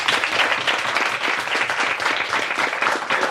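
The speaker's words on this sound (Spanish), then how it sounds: "Darle un aplauso por" A lecture audience gives a speaker a loud, sustained round of applause at a conference talk, with many hands clapping densely and evenly throughout.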